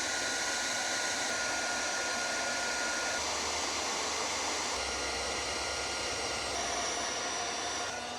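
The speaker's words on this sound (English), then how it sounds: "Let's shrink wrap this and then put a big shrink wrap over the top of that." Heat gun shrinking heat-shrink tubing over wiring during an electric brake repair on an IronBull dump trailer, a loud, steady, close blowing roar held without a break.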